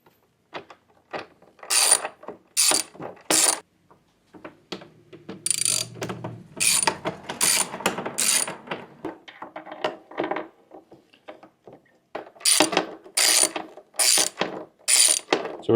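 A ratchet on a long extension turns out Torx 25 bolts on a motorcycle gauge pod, giving close, crisp clusters of quick clicks in repeated bursts with brief gaps between strokes.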